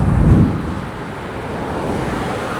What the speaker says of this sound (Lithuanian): Šaltas vėjas.